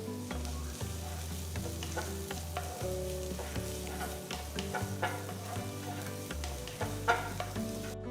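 Chopped onion and garlic fry in a pan with a soft, steady sizzle and occasional stirring clicks, quiet and close with no voices.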